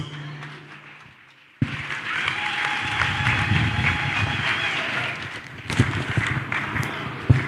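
An audience bursts into applause after a brief quiet stretch, steady dense clapping of many hands that carries on for several seconds, with a few louder claps and some stray sounds near the end.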